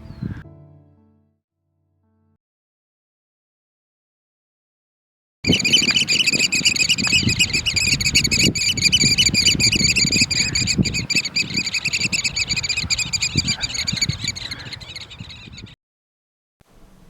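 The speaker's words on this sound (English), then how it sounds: "oyster catchers, absolutely striking birds. The calls we heard wherever we went." A long stretch of shrill, piping oystercatcher calls rings out continuously after a silent start, loud and close, with rustling noise beneath, in Scotland's west.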